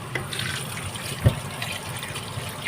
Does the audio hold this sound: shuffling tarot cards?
no